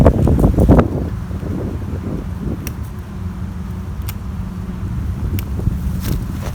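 Steady wind blowing outdoors during a fishing trip, a continuous low rushing roar with microphone buffeting, loudest at the start and then a fairly even drone.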